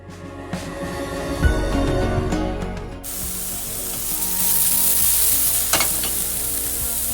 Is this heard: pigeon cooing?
no